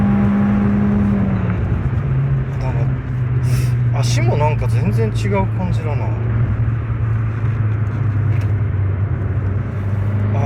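An Alfa Romeo compact car with a MultiAir turbo engine drives along, its steady low engine drone and road rumble continuous from inside the cabin while people talk over it.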